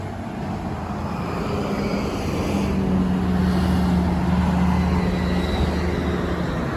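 A training bus driving past on Yonge Street in Midtown Toronto near Lawrence Station, a rising low engine drone with a tonal hum under steady urban traffic noise, heard from the sidewalk, loudest mid-way then fading.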